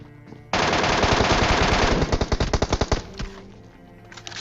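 Rapid automatic gunfire from PUBG Mobile during a last-circle squad house fight: a loud, dense burst of sustained fire, then a string of distinct, evenly spaced shots trailing off.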